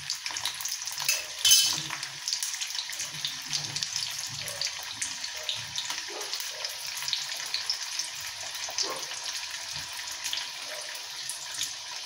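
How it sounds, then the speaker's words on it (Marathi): Khari puri frying in hot oil, a steady close bubbling sizzle with a brief louder splash of oil early on, continuing without talk. "पुरी कशीही पडू दे तेलात"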